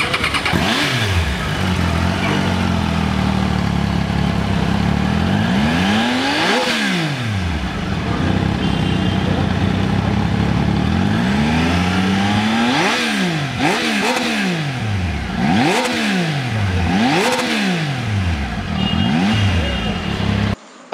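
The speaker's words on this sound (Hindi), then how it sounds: "इसका जो एग्जॉस्ट साउंड है वो थोड़ा सुन लीजिए, उसको थोड़ा एंजॉय कर लीजिए" A Triumph Tiger 800 XRx motorcycle engine revs repeatedly, its exhaust note sweeping up and down in loud bursts, with a steady idle rumble underneath throughout.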